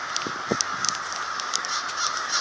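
Birds, likely crows or geese, fly over a frozen pond in a city park in winter, giving several short caws and honks at moderate distance against a steady outdoor background.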